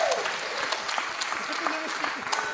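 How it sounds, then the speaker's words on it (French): An audience at a live stage show claps steadily, a dense patter of many hands filling the short stretch at moderate volume without voices. "Si on peut l'applaudir, la mère Apoigny"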